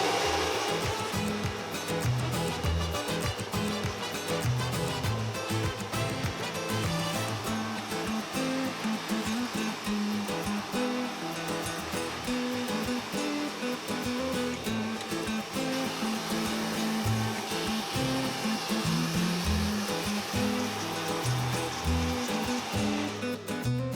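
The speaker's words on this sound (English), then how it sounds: "There, I've roughly blow dried all her hair." A hair dryer blows through a woman's hair during an editorial blow-dry, a loud, steady, close airflow roar that runs unbroken for the whole stretch with no talking.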